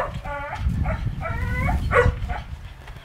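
Dogs barking outdoors, several sharp repeated barks and yips over a rough, rumbling background, moderately close with a brief whimpering tone.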